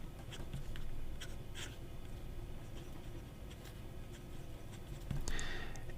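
A fake Montblanc Ferrari fountain pen scratches across paper in quiet, close strokes, with small ticks and pauses between lines and a louder swipe near the end.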